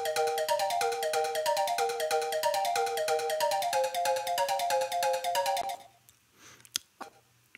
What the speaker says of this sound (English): I also imagined a rhythmic arpeggio being present